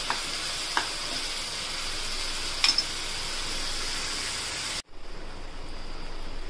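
Spinach and garlic paste fries in a pan with a loud, steady sizzle. A brief stir-like break near the end leaves a softer, crackling fry.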